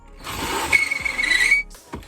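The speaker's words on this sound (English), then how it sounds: "Now we're gonna drill out the other one." A power drill works out a rivet in the dash of a 1999–2002 Chevrolet Silverado for a double DIN conversion, giving a close, loud whirring burst with a high squealing whine before it stops.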